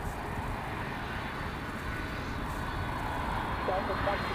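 A Delta Boeing 757-200 from Boston lands on runway 24 right at LAX, its engines a continuous broad roar, steady and fairly loud from a distance, with voices faintly present underneath.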